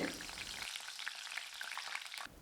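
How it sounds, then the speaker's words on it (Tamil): Curry leaves crackle and sizzle sharply in hot oil, a close, continuous spitting fry lasting a couple of seconds. "இந்த சூடான எண்ணெயிலேயே கொஞ்சம் கருவேப்பிலை மணத்துக்கு பொறிச்சு போட்டுக்கிட்டா நல்லா இருக்குங்க"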